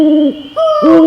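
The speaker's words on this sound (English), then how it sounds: "in the distance, you hear an owl" An owl gives two loud, close, clear hoots, each a smooth tone with a falling tail, separated by a brief gap.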